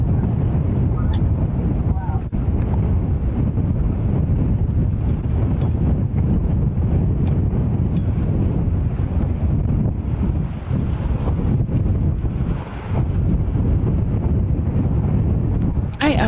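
Strong, steady wind buffets the microphone at an outdoor plane-spotting spot by JFK airport, a loud continuous low roar with gusts and no clear pauses throughout.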